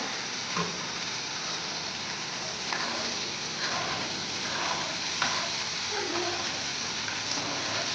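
Chopped onion and tomato frying in a pan for a quick savory chutney, giving a steady close sizzle with occasional stirring scrapes and no talk.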